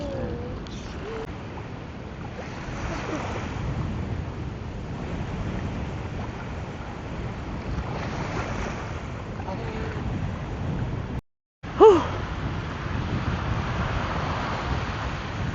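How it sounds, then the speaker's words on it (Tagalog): Strong wind blows steadily at a beach camp in Zambales, with a broadband roar and the rush of surf, and a short dropout near the end followed by a brief knock. "Grabe, sobrang lakas pa rin ng hangin."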